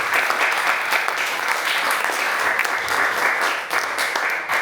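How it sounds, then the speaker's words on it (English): Audience at a talk on the future of work breaks into sustained applause, dense, even clapping from a fairly large crowd filling the room. "So can we give a massive round of applause?"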